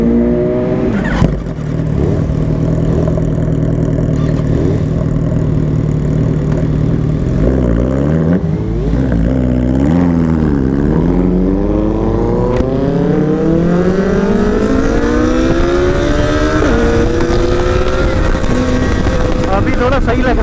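A ZX10R or S1000RR sport bike, warmed up, idles and revs with rising and falling engine pitch, steady and close, while people talk over it.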